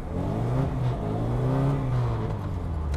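A car engine revving hard while drifting, a loud, sustained mid-range roar that rises and wavers in pitch, close and continuous with no talk.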